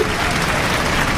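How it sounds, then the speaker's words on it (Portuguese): A church congregation claps loudly at a service, a dense, continuous burst of applause filling a short moment with no voices on top. "dá uma linda salva de palmas para Jesus"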